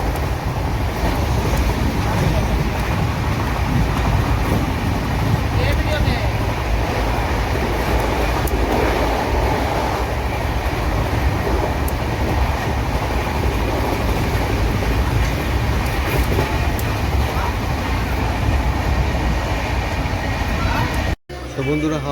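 The Azad Hind Express (12130, Howrah to Kopargaon) races at 124 km/h through Odisha, a loud continuous rumble and rail clatter heard from inside the coach, with a voice in the background and a sudden brief dropout near the end.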